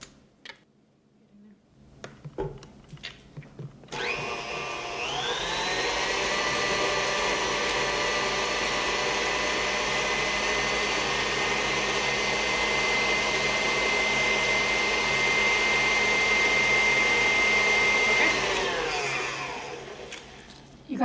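Electric mixer blending three ingredients including chili powder, a steady loud whirring motor that spins up after a few seconds of quiet, holds a constant drone with a faint high whine, then winds down near the end.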